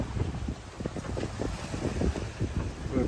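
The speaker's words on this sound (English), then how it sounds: "And yeah, it's great fun, glorious day of sailing. The waves are getting pretty organized now." Sailboat on a broad reach through organized ocean waves on a bright day, with steady buffeting wind noise on the microphone and rolling water sloshing against the hull, no talking.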